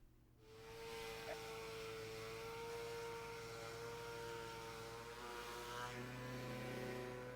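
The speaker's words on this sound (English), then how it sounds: "So we're going to move over to our dual action air sander." A pneumatic dual action air sander spins up and runs steadily on white oak, giving a continuous high-pitched whine and hiss at close range, fairly loud and alone.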